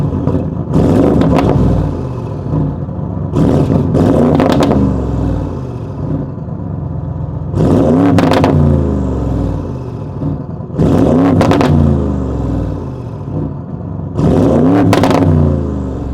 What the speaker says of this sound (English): So, gonna give it a little rev now,